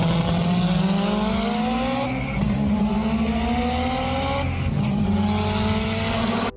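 An 800 horsepower Subaru GC8 race car screams under hard acceleration, its engine note climbing steadily through several gear changes, loud and close with continuous high-revving harmonics and no voices.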